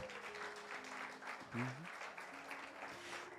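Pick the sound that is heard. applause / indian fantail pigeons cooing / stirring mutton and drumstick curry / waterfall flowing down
applause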